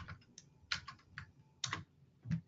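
Fingers type on a computer keyboard in quick, uneven clusters of keystrokes, close and fairly quiet, with brief pauses between bursts.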